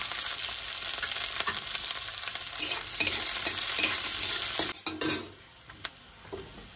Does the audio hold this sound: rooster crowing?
no